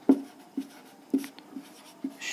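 Short scratchy strokes of a pen writing notes by hand during a physics lesson on electric potential, about six separate taps and scrapes, close and fairly quiet.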